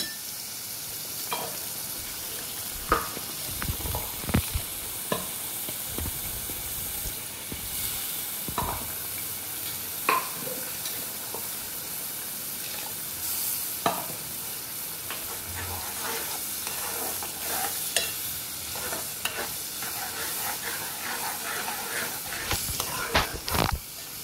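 Masala paste for kolambi (prawn) masala cooks in a pan with a continuous sizzle and hiss, while a spoon scrapes and stirs in scattered clicks and knocks.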